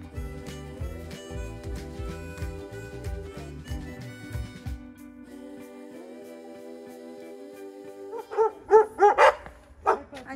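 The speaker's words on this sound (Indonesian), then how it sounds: "Anjingnya banyak, Kelan." Many dogs bark and yip in a cluster near the end, loud and close, in a city forest, after a stretch of droning background noise.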